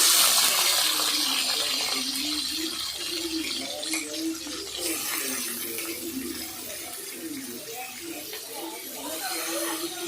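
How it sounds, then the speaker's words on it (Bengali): Carrots sizzle in hot oil in a kadai for vegetable chow mein, a steady bright hiss running throughout with a voice murmuring underneath. "তেল দিয়ে তেলটা কিছুক্ষণ গরম হওয়ার পরে গাজরগুলো দিয়ে দিলাম।"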